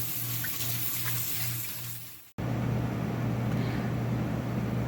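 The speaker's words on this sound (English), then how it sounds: "Washing the potatoes. Yeah, I'm gonna clean them up there." Potatoes are rinsed under a running tap at a sink, with a steady wash of water, a tonal hum, and a brief cut midway, then the flow resumes louder and continuous.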